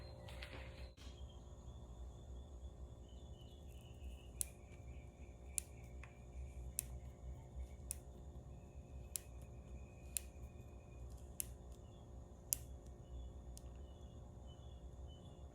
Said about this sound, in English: Now I'm going to take it out 9 clicks.